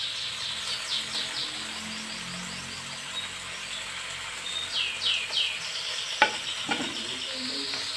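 Cassava leaves tossed and stirred in a pan give a steady, fairly quiet sizzle with light scraping, a few sharper clanks near the end, and faint bird chirps in the background.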